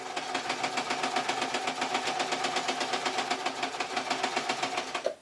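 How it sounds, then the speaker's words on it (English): A sewing machine runs a straight running stitch through two layers of fabric, giving a steady, rapid mechanical patter that keeps an even rhythm for several seconds and then stops abruptly, heard fairly quietly with no voices. "this machine's quite happy, but I should have just turned down the top stitch because I'm now only sewing 2 bits of fabric"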